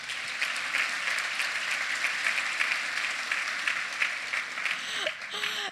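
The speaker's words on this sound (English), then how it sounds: "Would you give Chris a round of applause" An audience at a keynote talk applauds steadily, with dense, even clapping that stays loud throughout and tapers slightly at the very end.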